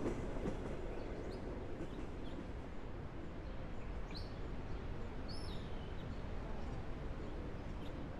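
A Chinese passenger train runs steadily on its rails, a continuous loud low rumble and rattle of carriages with faint bird calls above it and no voices.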